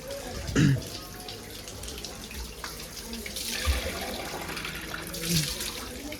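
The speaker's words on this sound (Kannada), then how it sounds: "ಬಸವಣ್ಣ ಬಾಯಿಂದ ನೀರು ಬರುತ್ತೆ" Water pours steadily from the mouth of a Nandi statue at a temple, making a continuous close splashing rush with a few soft knocks and thumps.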